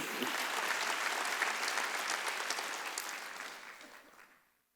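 A church congregation at a Wednesday worship service claps together in loud, dense, sustained applause that fades out over the last second.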